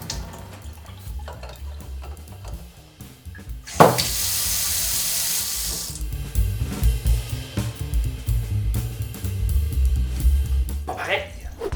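Water gushing from a tap fitted with a water-saving aerator, a brief hissing splash that starts suddenly and fades after about two seconds, with a voice talking before and after.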